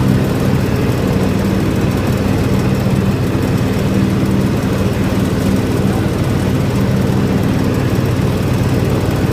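A John Deere X724 4WS lawn tractor runs steadily and loudly up close while blowing cut grass into a windrow, its engine drone unbroken from start to finish.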